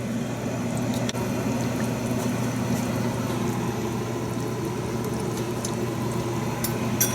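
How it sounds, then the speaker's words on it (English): A pot of chickpea and eggplant tagine coming to a boil, giving a steady, close bubbling and hissing with a low constant hum underneath and no voices. "So we'll let it come to a boil, and then we will reduce it."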